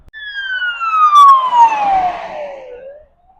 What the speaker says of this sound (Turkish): Bak ambulans sesini duyduğun anda hemen şerit değiştiriyorsun.